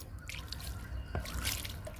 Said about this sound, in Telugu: కొంచెం వాటర్ చల్లుతున్నాను